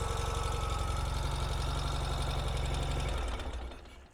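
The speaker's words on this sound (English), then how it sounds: "It'll raise the idle a little bit momentarily." A 2023 Ural Gear Up sidecar motorcycle idles close by with a steady, rhythmic low chugging for about three seconds, then the engine is switched off and the sound quickly dies away into near silence.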